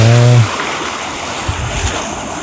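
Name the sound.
sea waves on the coast at Portland, England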